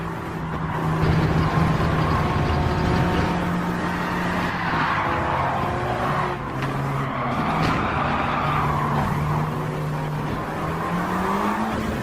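Race cars from Gran Turismo 7 lapping the Nürburgring Nordschleife, with a Mercedes and a Porsche in the field: a steady, loud engine drone with shifting pitch and occasional tire squeal, continuous throughout with no talk.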